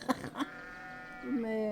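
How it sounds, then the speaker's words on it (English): Goats bleating in a video game, a few short bleats at the start and a longer drawn-out bleat near the end, moderately close, with a voice talking over them. "And I'm hearing some goats."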